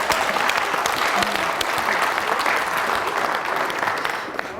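A studio audience at a Georgian television show honoring top students from Baghdati claps loudly and continuously, thick even applause close to the microphone that fades a little near the end.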